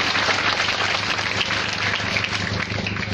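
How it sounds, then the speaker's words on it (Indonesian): A crowd at a church youth camp sermon claps steadily and loudly, a dense continuous patter of many hands with no voices on top. "Tepuk tangan"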